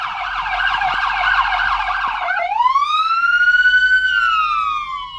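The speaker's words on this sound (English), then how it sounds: "They turned on their lights and sirens for us" Buffalo, Minnesota police car siren, close and loud, shifting from a rapid yelp into a slow rising and falling wail with strong harmonics, alone over a faint engine hum.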